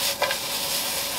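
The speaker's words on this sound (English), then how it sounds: "So just saute it for 1 minute." Vegetables sautéing in a pan for Jamaican escovitch sauce make a steady bright sizzle, with one quick stirring scrape near the start.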